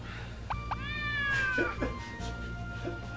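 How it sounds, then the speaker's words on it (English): A cartoonish cat meow sound effect from the video game Wonder Project J2 plays twice in quick succession, then gives a longer, drawn-out meow, with a steady low hum underneath and no talking. "They're actually using the cat meow sound effect."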